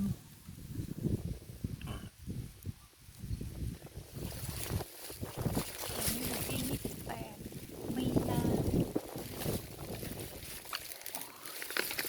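Strong wind gusts rush across the microphone outdoors among banana plants in flower, a steady rough roar that swells and buffets while people talk nearby.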